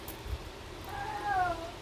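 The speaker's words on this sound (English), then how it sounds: "one of my kitty cats has to make some kind of noise." A pet cat meows once, a short faint rising call heard close by in a quiet indoor room.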